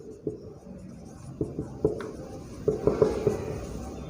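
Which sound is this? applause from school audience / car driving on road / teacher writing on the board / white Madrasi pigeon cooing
teacher writing on the board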